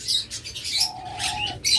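A pair of Fischer's lovebirds gives shrill, rapid chirps and squawks in short bursts, close and bright, with a brief sustained whistle-like tone in between.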